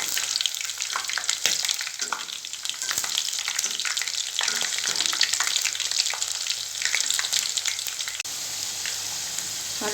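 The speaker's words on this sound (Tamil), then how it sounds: "வெண்டைக்காயை ஃப்ரை பண்ணிக்கலாம்" Okra (ladies finger) pieces fry crisp in hot oil in a pan, giving a constant close crackling sizzle with frequent sharp pops and spatters throughout, steady and moderately loud with no voices.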